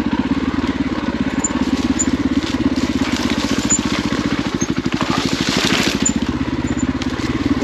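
Husqvarna FE501 dirt bike riding through a rut on an Idaho City trail, its engine a rapid, steady low pulsing drone close by, with faint crunches and rattles over the terrain.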